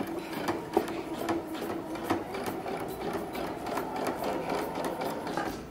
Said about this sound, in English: sew front and then go back a little bit